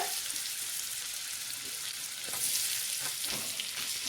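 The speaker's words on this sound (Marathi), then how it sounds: "आता त्यातच टाकून घेते मी एक मोठा चमचा बटर" A large spoonful of butter sizzling in a kadhai while preparing gravy for matar paneer, a steady close hiss and crackle of hot fat that holds unbroken throughout, with faint stirring underneath.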